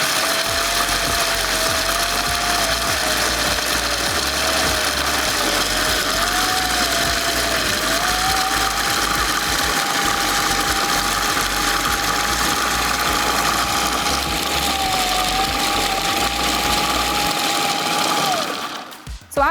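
A food processor runs continuously with a steady whirring motor drone and slight pitch wavering, loud and close, for nearly the whole stretch before cutting off at the end.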